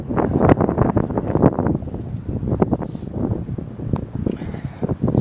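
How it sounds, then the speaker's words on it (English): Strong outdoor wind buffets the microphone in loud, rough, irregular gusts throughout, a continuous low roar that almost fully masks everything else, beside a Johnson 4hp outboard motor. "I'm sorry for the wind, it's really windy"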